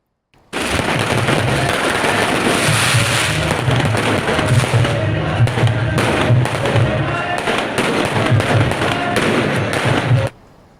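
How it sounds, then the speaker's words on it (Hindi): Celebratory fireworks set off by Peoples Party workers at Saddar Empress Market, Karachi, crackle in dense rapid bursts like machine-gun fire, loud and close for about ten seconds, with a crowd faintly beneath. "पीपल्स पार्टी की जानिब से सदर एम्प्रेस मार्केट में जश्न। पीपल्स पार्टी के कारकुनान की जानिब से शानदार आतिशबाजी का मुजाहरा किया गया।"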